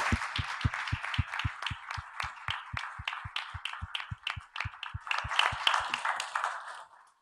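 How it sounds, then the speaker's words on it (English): An audience applauds the panelists at the close of a live WWF event, a dense round of many hands clapping with steady low thumps underneath, swelling and then tapering off into quiet at the end. "Let's applaud our panelists."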